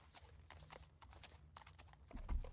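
Horse hooves clip-clopping along a woodland trail, a steady, fairly faint rhythm of hoof falls with a heavier thud near the end and no talk.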